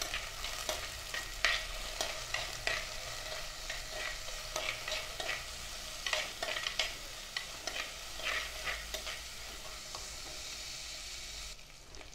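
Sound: shallots, green chillies and curry leaves being sautéed in a pan

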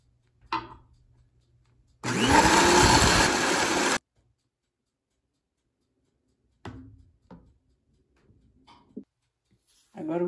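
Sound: electric mixer beating egg whites

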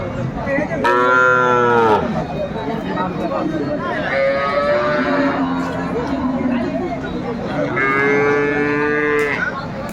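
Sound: cow and calf mooing at a cattle market

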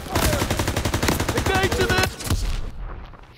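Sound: cover gunfire in Call of Duty: WWII video game

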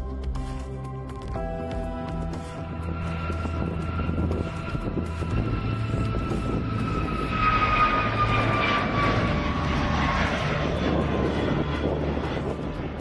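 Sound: MS-21 airliner in flight

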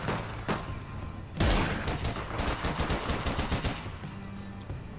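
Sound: sniper gunfire in the video game APB Reloaded

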